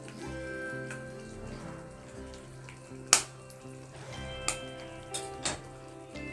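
Eggs are cracked and poured into simmering egg curry gravy, muttai kulambu, on a low flame, giving soft steady bubbling and sizzle broken by a few sharp, close cracking clicks.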